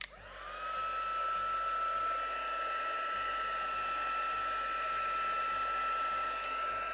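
A heat tool blows steadily while heating gold embossing powder on a card, a continuous whirring fan hiss with a high whine that holds for several seconds.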